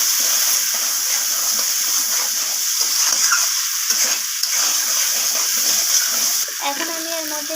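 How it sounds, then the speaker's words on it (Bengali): Chana paneer with ginger paste sautéing in a pan, a continuous hissing sizzle with faint scraping from stirring, and clinking toward the end. "তো আবারও সব কিছুকে আমি কষিয়ে নিচ্ছি এইভাবে।"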